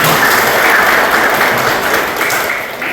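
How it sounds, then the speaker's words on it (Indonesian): Applause from a classroom of students, a dense steady wash of many hands clapping close by that holds for the whole stretch and tapers slightly at the end. "Oke, bagus. Tepuk tangan"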